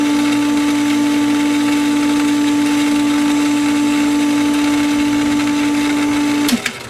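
A pool filter pump hums loudly and steadily during backwash, a constant mechanical drone that stops abruptly with a clunk near the end as it is switched off.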